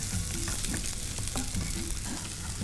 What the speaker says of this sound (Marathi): तर यात आपण आधी गाजर टाकणार आहोत आणि गाजर पण आपल्याला थोडं शिजवून घ्यायचं आहे।